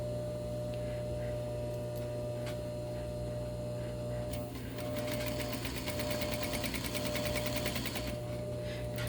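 A sewing machine stitches along the side seam of a spandex dress, running steadily with a fast rhythmic needle clatter over a constant motor hum.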